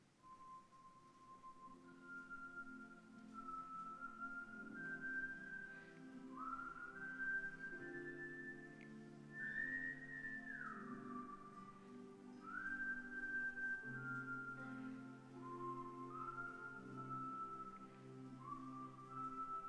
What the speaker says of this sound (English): So I whistled.